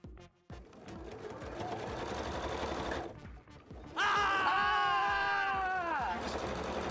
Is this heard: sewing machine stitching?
yes